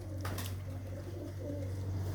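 Breeder pigeons coo softly in a loft, their low murmuring calls set against a constant low hum, with one brief brighter rustle near the start.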